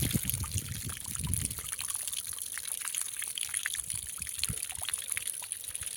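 Continuous splashing of water flowing and pouring steadily from a borewell pipe, close by, with no break over the whole stretch.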